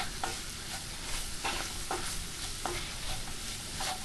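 Crumbled sausage sizzles quietly in bacon fat as sprinkled flour is stirred through it for gravy, with soft scraping strokes of the spoon repeating over a steady low frying hiss.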